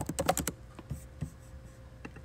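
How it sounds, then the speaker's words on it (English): Typing on a computer keyboard: a quick burst of several sharp key clicks at the start, then scattered single taps, close and clear with no talk. "I'm typing in and talking at the same time"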